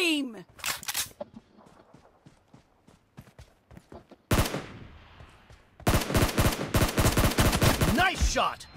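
Gunfire fills a PUBG Arena match on the Assault Ruins map: quick single shots, then a loud burst and a dense run of rapid automatic fire near the end.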